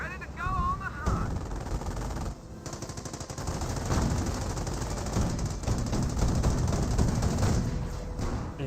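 Machine gun fire in the World War II strategy game Company of Heroes: a dense, continuous rattle of rapid shots with heavier blasts mixed in, loud and sustained across the whole stretch, with a voice talking at times.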